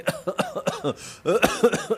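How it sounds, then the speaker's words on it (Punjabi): A run of short, sharp coughs repeating in quick bursts, fairly close and loud, with a throat-clearing quality between them. "ਉਹ ਖਾਂਸੀ ਜੀ ਕਰੀ ਜਾਂਦੇ ਨੇ ਸਾਰੇ"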